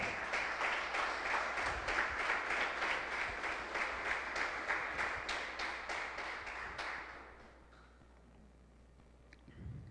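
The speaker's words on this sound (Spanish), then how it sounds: "¿Le puedo dar ese aplauso al Señor?" Church congregation breaking into applause during a service, dense rhythmic clapping that runs for several seconds, then fades out, leaving quiet room tone and a last faint tap.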